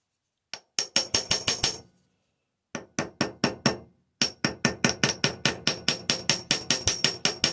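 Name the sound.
hammer tapping copper rivet into countersink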